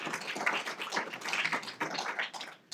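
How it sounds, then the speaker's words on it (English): A crowd at a public science lecture applauds steadily, a dense, even wash of clapping that holds for a few seconds before tapering at the end. "let's go ahead and give them a round of applause"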